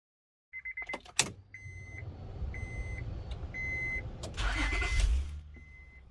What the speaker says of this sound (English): I've got the car running now,